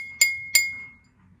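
Empty drinking glass tapped on its side in a kitchen: two clear, bright clinks a third of a second apart, each leaving a pure ringing tone that fades within about a second.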